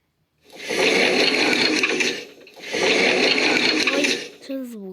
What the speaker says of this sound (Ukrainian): Це звуки дверів.